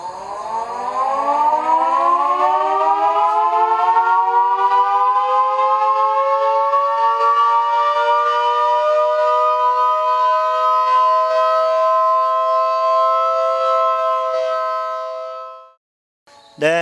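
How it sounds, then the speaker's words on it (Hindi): A civil defense siren sounded at a NEEPCO hydroelectric site, a long continuous rising then steady wail that holds loud for about fifteen seconds before cutting off. "तो यहाँ जब उसको टेलीफोन कॉल मिलता है तो वो यहाँ में सायरन को बजाता है"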